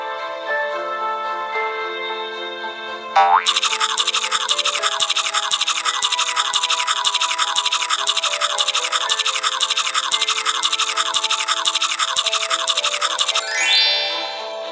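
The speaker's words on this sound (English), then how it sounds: "Move the toothbrush up and down over Hansel's teeth to give them a good clean." Electronic toothbrush scrubbing in a Hansel and Gretel story game, a loud, steady rapid buzzing that starts abruptly after a soft chime and runs for about ten seconds before fading out.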